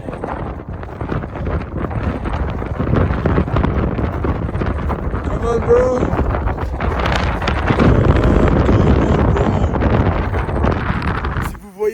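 Strong mountain wind near the summit of Mount Rinjani buffets the microphone in a steady roar, with people shouting and talking over it throughout.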